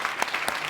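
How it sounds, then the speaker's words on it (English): Brief burst of audience applause at a London entrepreneur event, a short patter of claps at moderate loudness. "Can we give JP a big round of applause for that?"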